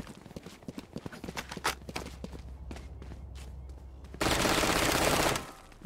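Rapid gunfire from a weapon in the shooter game Valorant: a burst of sharp, near shots with footstep-like clicks beforehand, then a loud, dense stretch of continuous firing near the end.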